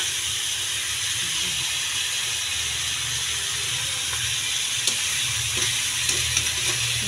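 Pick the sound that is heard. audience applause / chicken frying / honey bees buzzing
chicken frying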